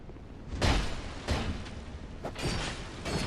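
Roaring, crackling fire in Dark Souls II, a broad rushing blaze that surges in loud swells every second or so over a steady hiss, with no voices.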